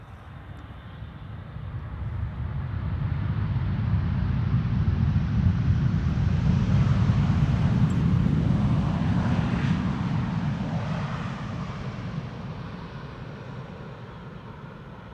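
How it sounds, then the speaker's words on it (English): A KLM Boeing 787-10 Dreamliner lands at Amsterdam Schiphol on an early winter morning, its engines a broad, steady roar that swells to a peak midway and slowly fades, with some wind rumble throughout. "First landing here is KLM Flight 749, arriving from Cartagena, which is in Colombia, right next to Ecuador."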